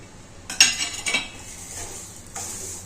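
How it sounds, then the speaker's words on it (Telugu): Carrots and potatoes fried in ghee in a pan with rice and curry leaves, stirred with a utensil: a few sharp metallic scrapes and clinks against the pan over a soft frying hiss, close and moderately loud. "క్యారెట్, ఆలుగడ్డ అండి వేసి వేయించుతాను."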